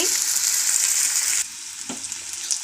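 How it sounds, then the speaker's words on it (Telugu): Onions fry in a pan with a loud, bright sizzle. The hiss drops partway through and then carries on more quietly, broken by a brief clink of a utensil. "ఉల్లిపాయలు వేగుతున్నాయండి"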